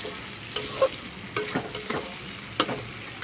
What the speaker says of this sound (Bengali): বেগুনটা দিয়ে আমি আর একটু নেড়ে নেব